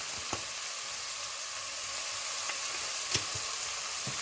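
Vegetables sweating down in a frying pan for a lasagne sauce give a steady, soft sizzle, with a few light clicks and stirs rising briefly above the hiss.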